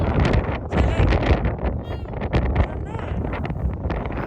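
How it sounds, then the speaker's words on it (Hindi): Strong wind buffets the microphone outdoors at a shrine site in Baku, loud rumbling gusts that swell and ease throughout, with faint voices underneath. "हवा इतनी तेज चल रही है"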